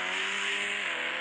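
A Supra car at a ramp challenge revs its engine in a brief, sustained, strained whine with a rich layer of harmonics, fairly close and with no other sounds around it.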